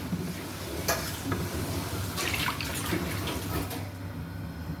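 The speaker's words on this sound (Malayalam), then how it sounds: "അപ്പോൾ നമ്മളുടെ പാല് തിളച്ചിട്ടുണ്ട്" Milk boils in a kadai with a soft, continuous bubbling hiss and a few faint clinks, close but quiet, with no one talking.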